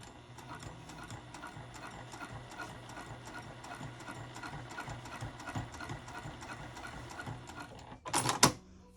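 A sewing machine stitches a lined box-bottom zipper pouch, a fast even rattle of the needle running close and steady, ending with a brief louder clatter near the finish.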